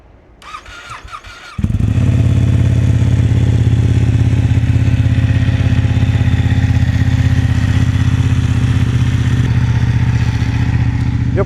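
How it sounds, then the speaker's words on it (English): A rebuilt Ducati motorcycle engine fires up after a brief quiet moment, then runs loud and close at a steady, throbbing idle with a strong low rumble and mechanical clatter throughout. "the engine's so loud, but it sounds really good"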